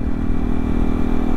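A Yamaha R15M sport motorcycle being ridden, its engine humming at a steady, moderate rev level, close and continuous with a low droning tone and no speech.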